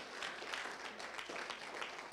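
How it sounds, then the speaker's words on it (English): A church congregation clapping their hands in praise, a dense, steady patter of many hands that carries on continuously at moderate loudness for a couple of seconds. "Y'all give God a hand clap of praise."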